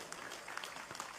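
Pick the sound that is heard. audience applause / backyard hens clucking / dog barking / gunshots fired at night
audience applause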